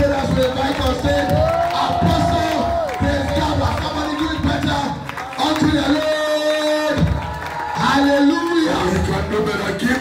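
A church congregation at a deliverance festival service claps and shouts, loud cheering and whoops rising and falling in bursts, with a voice calling out over the crowd.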